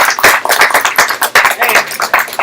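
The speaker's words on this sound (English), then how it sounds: "Everybody give them a huge round of applause." An audience at an aquarium society meeting breaks into applause, a dense burst of many hands clapping close by and continuing steadily throughout.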